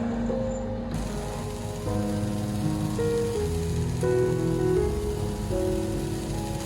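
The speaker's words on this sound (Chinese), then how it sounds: "全程使用小火慢慢煎。" Glutinous rice flour cake filled with sweetened red beans pan-frying slowly over low heat, a steady soft hiss of oil running throughout beneath background music.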